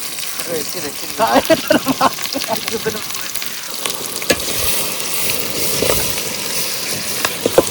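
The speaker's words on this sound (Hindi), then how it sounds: "वर्तमान देखि पारथुबे सांग माने हम अदा रसुन पेस्ट पका होछि।" Ginger garlic paste frying in a pan at an outdoor riverside cookout, a continuous close sizzle with stirring scrapes, heard under occasional talking.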